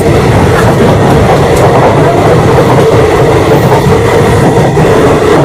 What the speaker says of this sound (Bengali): আমাদের সঙ্গে এখন দেখা হবে জঙ্গিপুর শিয়ালদা এক্সপ্রেস